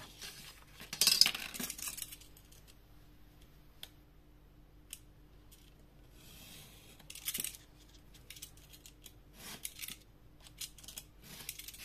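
Scissors cut card stock for a handmade card, with a couple of short, crisp snipping bursts separated by quiet handling noises and light clicks.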